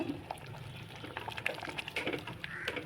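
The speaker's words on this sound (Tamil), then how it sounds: "கிச்சடிக்கு தேவையான அளவு தண்ணி ஊற்றிக்கோங்க." Water poured into a cooking pot for wheat rava kichadi, a steady, close, moderately quiet liquid splashing that runs continuously.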